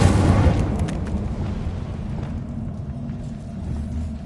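In a video game, the Incendio fire spell goes off as a loud, close rumbling whoosh of flame, heavy and roaring at first and then thinning into a steady crackling burn.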